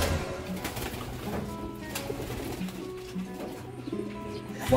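Pigeons coo in a loft amid a busy mix of overlapping low, soft, rolling calls, with a continuous murmur of many birds close by.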